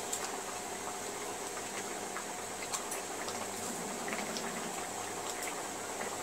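Tangra fish curry with fried potatoes simmering in a pan, a soft steady bubbling hiss with scattered tiny pops, close and continuous with no talk.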